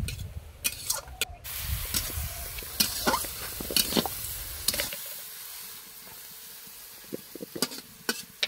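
Fish and potatoes frying in a pan give off a close, steady hiss and sizzle, punctuated by a scattering of sharp stirring clicks and scrapes, with a low rumble that drops away midway.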